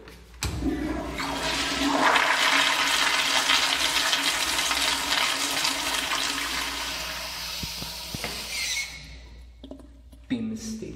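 A Kohler Highcrest toilet flushing in a department store restroom, a loud close rushing whoosh of water lasting about eight seconds that fades into a quieter refill trickle, with a brief spoken word at the start.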